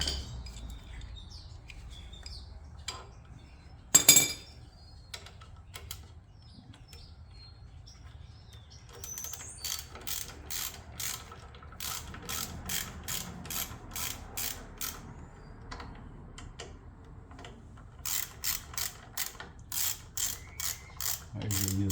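A hand ratchet clicks in fast, even runs while tightening the primary cover bolts on a Harley-Davidson Sportster 883. Two separate stretches of crisp, close ratcheting are broken by short pauses, and a sharp clank sounds earlier.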